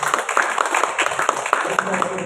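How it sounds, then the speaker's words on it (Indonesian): Church congregation clapping during a Sunday worship service, brisk rhythmic handclaps carrying on under a voice and music. "Tepuk tangan Tuhan."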